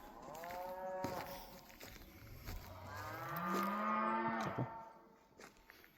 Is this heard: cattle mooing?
yes